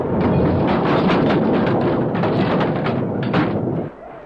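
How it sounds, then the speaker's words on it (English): A blasting powder charge goes off and blows a door clean off, a loud, sustained roaring blast with crackling bursts that rumbles for about four seconds before dropping off abruptly near the end. "The door's blown clean off."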